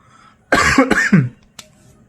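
A person coughs close up at night: two or three harsh, quick coughs in a burst, then a brief, softer throat sound after a pause, alone in quiet surroundings.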